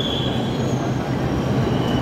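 A Delhi Metro train pulls into the Kashmiri Gate station with a loud, steady roar of wheels on rail and a thin, high squeal running over the rumble. No speech is heard.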